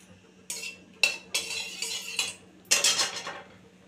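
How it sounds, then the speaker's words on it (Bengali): Whole garam masala spices hit hot mustard oil in a pan, with crisp metallic clinks and scrapes of a utensil against the pan in several sharp bursts, each trailing off into sizzle. "তো আমি গোটা গরম মশলাটা ফোড়নে দিয়ে দিচ্ছি।"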